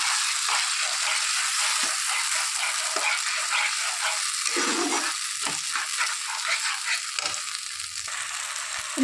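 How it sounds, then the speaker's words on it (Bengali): Ground spice paste frying in hot oil in a pan, a continuous bright sizzle with crackling, stirring scrapes and occasional bubbling, close and steady with no talk. "মিক্সির বোলের মধ্যে যেটা মিশ্রণটা বেটে রেখে দিয়েছিলাম ওটাও দিয়ে দিয়েছি তেলের মধ্যে"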